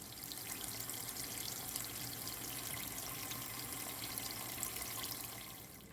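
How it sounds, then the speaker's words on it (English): Tap water runs steadily into a soup pot for homemade chicken noodle soup, a continuous hiss of running water with no speech. "We're going to fill my pot up with water, and we're going to turn it on"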